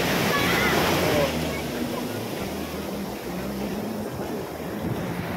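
Large ocean waves roll and break with a broad, loud wash of surf that is strongest at first and then settles into a steady roar, with the rumble of a boat underneath.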